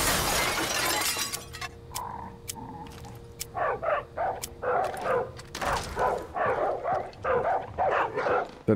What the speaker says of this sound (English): The two dogs is just barking at each other.